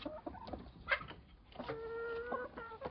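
Backyard chickens cluck and murmur softly while being fed, a few short calls and one longer drawn-out note, close by and fairly quiet with no talking.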